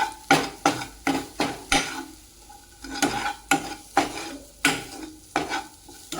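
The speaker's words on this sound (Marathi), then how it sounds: "त्यानंतर त्याला व्यवस्थित फिरवून घ्या" Spices get stirred into upma in a pan with a series of sharp spoon scrapes and clinks against the metal, about a dozen strokes in an uneven rhythm over a soft sizzle, close and loud, with no talking.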